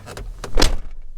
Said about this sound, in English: So I'm gonna close the door.